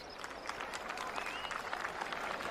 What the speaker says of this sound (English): They're already clapping.